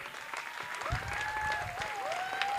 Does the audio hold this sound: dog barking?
no